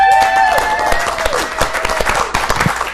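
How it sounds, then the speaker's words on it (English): A live audience at a bookstore event claps and yells together, a short burst of cheering with whoops over scattered clapping that thins out toward the end. "I want to ask them to yell and clap"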